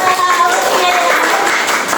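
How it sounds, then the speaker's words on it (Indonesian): Secondary school class clapping for a classmate, a dense, close ripple of hands in a small room sustained for a couple of seconds, loud and even. "tepuk tangan untuk Irmala."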